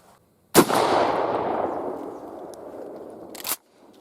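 A Mossberg 535 shotgun with a full choke fires a single birdshot load outdoors at a 35-yard pattern target, giving one loud, sharp blast whose rumbling echo trails off over about three seconds before a brief second crack.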